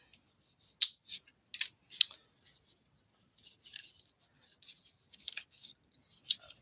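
Burnishing down part of a Christmas craft project, heard as a series of short, dry scraping and rubbing strokes in irregular bursts, close and fairly quiet, with no talking.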